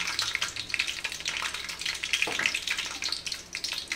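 Green chilies fry in hot oil for a fish curry, giving a steady crackling sizzle with bursts of spitting, close and moderately loud, with no talking.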